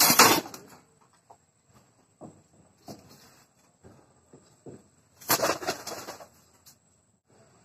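Pigeons coo softly in short, scattered bursts while being lifted out one by one and moved into a new coop, with louder rustling and handling noise near the end.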